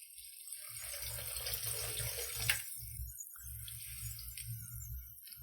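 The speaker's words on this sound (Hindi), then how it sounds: "अब हम इसमें पानी ऐड कर देंगे।" Water is poured into a pan of keema mince frying with spices, giving a continuous splashing, running stream with low sizzling and bubbling beneath, fairly close and moderately quiet.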